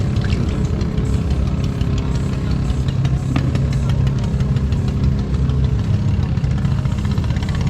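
Several motorcycle engines idle and rumble steadily nearby at Luciente Uno Wharf in Bolinao, Pangasinan, a continuous low mechanical drone with a few faint higher clicks over the top.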